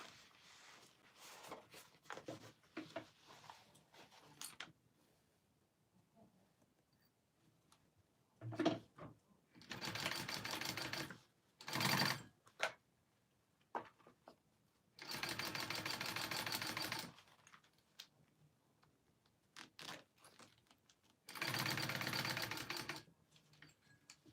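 A sewing machine runs in several short, loud bursts of rapid stitching, separated by quiet pauses filled with faint handling clicks and fabric rustles.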